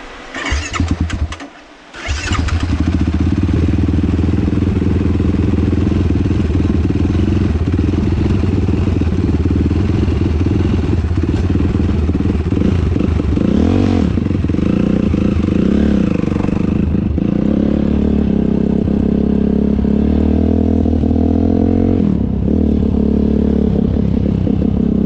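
Motorcycles run along a canal. After a brief stutter at the start, the engines catch and settle into a loud, close, steady rumble with shifting throttle that continues throughout, with no talking.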